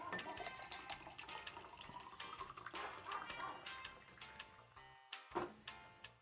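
Club soda is poured into a glass with lime and lemon juice to make homemade Sprite, a close, steady fizzing and splashing stream that trails off into a few drips.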